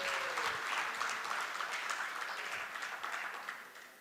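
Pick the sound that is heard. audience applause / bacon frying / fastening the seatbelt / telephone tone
audience applause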